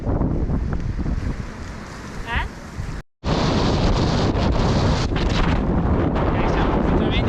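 Strong wind buffets the microphone while cycling through the Comacchio valleys below sea level. It makes a loud, continuous roaring rumble that drops out briefly and then returns at full force.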